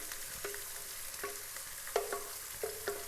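Chopped capsicum and finely chopped onion frying in a pan for chicken biryani, a steady close sizzle with a few sharp clicks of stirring scattered throughout.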